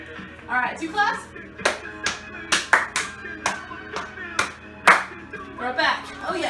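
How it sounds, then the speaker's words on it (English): Sharp hand claps ring out in a fitness class, spaced irregularly over steady upbeat music rather than falling as one clean pair, with the louder claps standing out near the middle and late in the clip. "All right, two claps."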